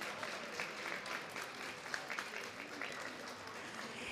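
A small group claps for a Girl Scout troop in a Spanish-language TV studio in Atlanta, with soft scattered applause blending with voices in the background.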